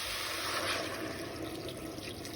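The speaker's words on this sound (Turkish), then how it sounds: "soğuk suyum var. içme suyum. Onu ilave ediyorum." Cold drinking water pours into a pot for zucchini soup as a continuous, fairly soft rushing stream with no break.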